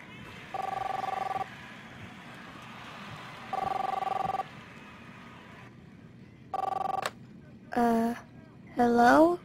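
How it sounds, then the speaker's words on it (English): A telephone rings in the video game The Awesome Adventures of Captain Spirit, three clear repeated rings with pauses between, followed by short vocal sounds. "Chris, answer the phone, please."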